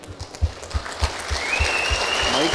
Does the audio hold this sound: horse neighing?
no